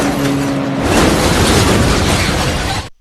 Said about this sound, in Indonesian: mobilnya terguling